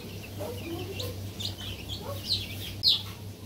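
Farm broiler chicks peep in a few brief, scattered high chirps over a steady low hum, faint and close, with a couple of sharper cheeps near the end.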